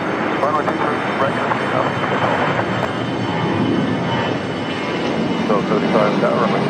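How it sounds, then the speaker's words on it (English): A FedEx Boeing 767-300 jet takes off from runway 23 right at Raleigh-Durham, its engines a loud, steady roar heard close, with voices talking over it. "the 767-300, another FedEx. Off to Philadelphia. I mean Indianapolis, excuse me. Runway heading, runway 23 right"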